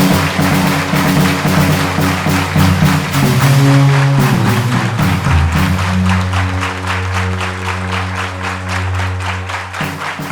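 Sustained applause from a large audience at a spiritual satsang gathering, loud dense clapping lasting throughout over a steady musical drone with shifting tones.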